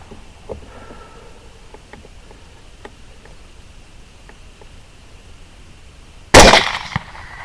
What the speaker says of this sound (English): So here's my first shot coming up.